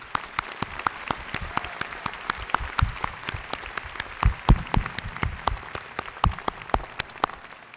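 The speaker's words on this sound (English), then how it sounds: "I'd like to start out by reiterating that with a really big round of applause." Large commencement audience at UNC-Chapel Hill applauds steadily, a dense patter of many hands clapping at moderate distance, without a break and gradually fading.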